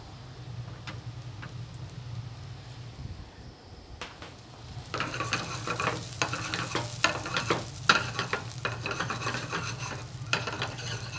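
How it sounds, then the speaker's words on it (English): Carrots and broccoli sautéing in a pan with singed garlic: a steady low sizzle, then from midway a louder scraping stir with busy crackling, close up with no voices. "I just take them and saute them in the garlic"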